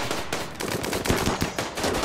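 Rapid automatic gunfire during a raid defense in the video game Rimworld, a dense, continuous burst of overlapping shots lasting about two seconds, loud and without talk.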